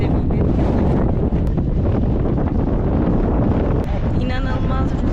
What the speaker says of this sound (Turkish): İnanılmaz rüzgar var.